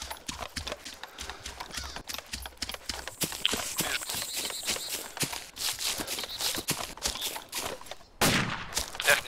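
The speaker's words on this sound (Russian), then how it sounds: "Это я стрелял." Gunfire in ArmA 2 with the ACE mod, a dense run of sharp cracks scattered through the whole span, several close and loud, with one heavier burst near the end, mixed with gritty rustling and movement noise.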